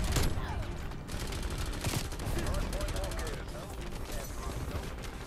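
Rapid bursts of LC10 submachine gun fire in a Call of Duty match, sharp cracks and stuttering automatic volleys with mechanical clatter, fairly near and repeated across the clip.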